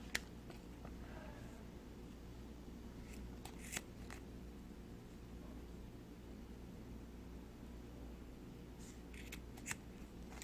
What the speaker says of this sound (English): then I'm going to cut.